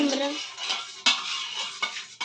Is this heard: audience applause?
no